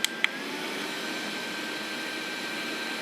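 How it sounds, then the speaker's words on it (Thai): A Torras hanging neck fan runs at its highest speed setting, giving a steady, fairly loud broadband whir held close, preceded by two quick clicks at the start. "เดี๋ยวผมจะให้ฟังเสียงของตัวพัดลมใกล้ๆนะครับ"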